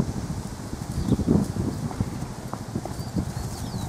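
Hooves of a blue roan overo horse clip-clop steadily as it walks forward, close and fairly loud, with light wind noise in the background.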